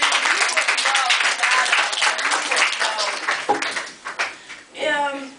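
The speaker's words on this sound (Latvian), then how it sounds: "Lūk, aplaus Līgai" Studio audience applauds warmly for Līga, dense clapping that carries on for several seconds before thinning into scattered claps near the end.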